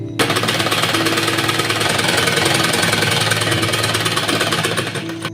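A sewing machine stitches stiff buckram onto a shaped cup piece for a child's designer shirt, a loud, continuous rapid rattle running several seconds without pause or speech.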